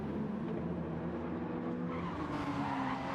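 Tyres squeal and scrub on GR3 race cars in a racing video game at the Nürburgring Nordschleife, a continuous close skidding whine over engine drone that rises in pitch toward the end.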